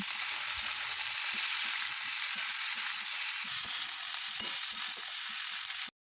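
Chopped cauliflower frying in hot oil with cumin and onion, giving a steady, close hiss and sizzle with occasional soft stirring knocks, no voices.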